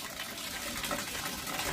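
Water runs steadily for a bath, probably from a bathroom tap, as a constant loud gushing wash with no talking over it.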